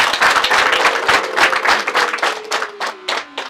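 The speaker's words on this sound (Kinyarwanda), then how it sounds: "Muyimpera amashyi n'impundu bishaka." A crowd at a women's community gathering in Burera, Rwanda, claps loudly and briskly. A sustained, slowly falling vocal tone runs through the clapping, which thins into a few scattered claps at the end.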